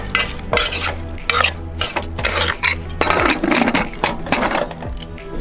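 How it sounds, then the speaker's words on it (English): A spoon stirs spices, salt and water into a pot of pineapple pachadi in a Kerala kitchen, with repeated close scraping and clinking against the pan over a faint sizzle, no talk. "Give it a mix."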